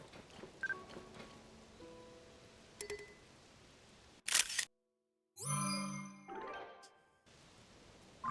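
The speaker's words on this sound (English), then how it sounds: "Oh, it's raining." Rain falling in the video game The Legend of Zelda: Tears of the Kingdom, a soft steady hiss beneath scattered game chimes and effects, broken by a sudden loud burst and a brief dead silence.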